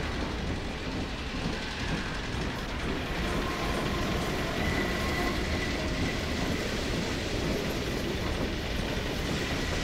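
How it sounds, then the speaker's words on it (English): A Combine train passes in Half-Life 2 with a steady, loud rumble and clatter that holds evenly throughout, with no voices over it. "There's one of the trains."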